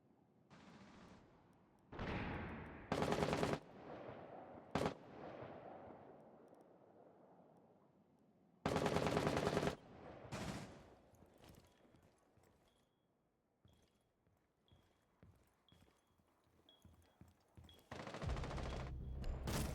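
Gunfire in a tactical shooter video game, with wallbang shots fired through a big window during a playoff match: sharp bursts of shots scattered across the stretch, alone without talk, with quieter game noise in between.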